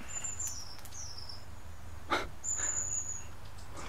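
In a ghost-hunting video game set in snow mode, birds call with a few faint, thin, high whistles scattered over a low steady hum, plus one short soft rustle.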